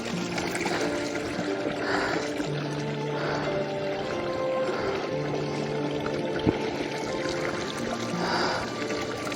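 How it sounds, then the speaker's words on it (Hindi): Water drips and trickles steadily inside a cold Himalayan cave near Badrinath where falling water freezes into ice, a continuous wet patter with faint low hum and no talking. "जहाँ जहाँ पानी गिरता जा रहा बर्फ जमती जा रही है।"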